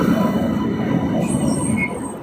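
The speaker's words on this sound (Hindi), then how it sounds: "देखियो ट्रेन आबि गेल, यहाँ छी हमर सबके ट्रेन" A Nanda Devi Express passenger train pulls into a station at night, giving a loud, steady rolling rumble of wheels and carriages with a faint squeal running through it.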